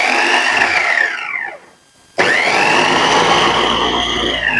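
An Italian electric food chopper mincing meat into keema, a loud close whirring motor roar that briefly cuts out, then kicks back in at full speed and runs on steadily.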